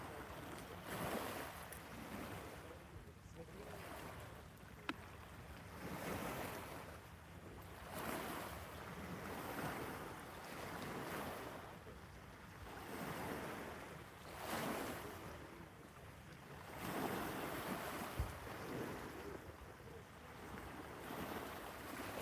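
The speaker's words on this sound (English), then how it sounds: "The sound of those waves is so enticing." Irish Sea waves roll in at a pier at Maryport at sunset, surging in slow regular swells every couple of seconds, with wind buffeting the microphone and no voices.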